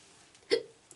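A single sharp hiccup from a woman at night, close and loud against a quiet room, followed by a much fainter catch of breath a moment later.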